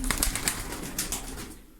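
Breeding pigeons in a loft in Darıca flutter their wings in short, soft bursts, fairly faint and close by, with a hint of low cooing beneath.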